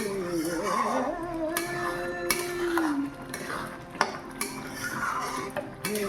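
A metal spoon clinks and scrapes against a kadai while ghee made from milk cream is stirred, with irregular sharp knocks over a steady cooking hiss and a faint voice in the background.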